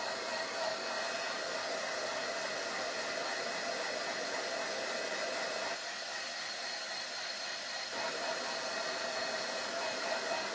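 A heat gun dries crackle paint on a project being aged, blowing a continuous, loud, even hiss that dips slightly for a couple of seconds before resuming, with no talking.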